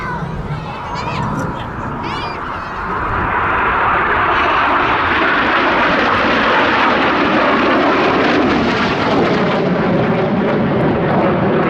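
RAF Red Arrows jets diving toward each other in the opposition barrel roll at an air festival, a loud rising roar of jet engines swelling after a few seconds and holding as a broad, sustained rush overhead.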